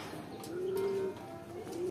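Racing pigeon arriving at its loft at the end of a race, a soft cooing call held for about half a second, with a shorter coo at the end, close by over quiet background noise.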